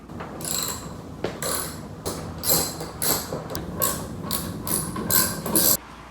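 Ratchet wrench loosening 10 mm bolts on a Honda Accord V6 air intake box, close rapid clicking strokes in repeated bursts of about half a second, with no talk.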